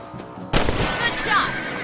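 A single sharp gunshot cracks out in Red Dead Redemption, a sudden loud report ringing into a brief decaying tail after a quieter lead-in.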